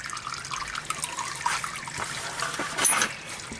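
Dirty oil drains and drips from a 2008 Chevy Duramax diesel truck during servicing, making a steady liquid trickle with scattered drips close by.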